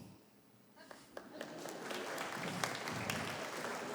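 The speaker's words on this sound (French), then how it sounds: "Si vous vous reconnaissez dedans, vous applaudissez." Stand-up comedy audience applause starts with scattered claps, then swells into steady clapping from a crowd that continues to the end.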